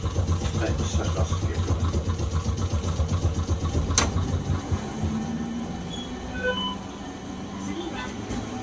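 A Nagasaki Electric Tramway 370 series tram runs on its route with a steady rumble and rattling wheel clatter, then slows into a quieter hum with faint whines and clicks.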